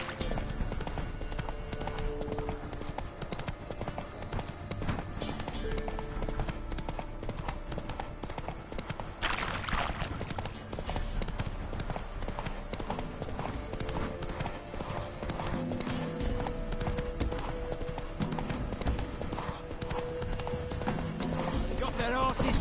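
Hooves clip-clop steadily as the horse Roach is ridden in The Witcher 3, with an occasional whinny. Game music and voices play over the continuous gait.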